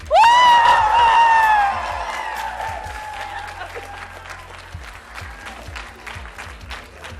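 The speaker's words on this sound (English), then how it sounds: "Stomp your feet, clap your hands, and yell as loud as you can." A conference plenary audience erupts on cue, a loud burst of yelling and whooping that settles into sustained clapping and rhythmic foot stomping, dense and continuous to the end.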